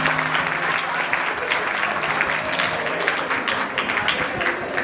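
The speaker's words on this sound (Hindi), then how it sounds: "एक बार जोरदार तालियां सब मिलेंगे" Loud, sustained applause from an audience gathered at a Digambar Jain temple event in Delhi, a dense continuous wash of clapping lasting throughout.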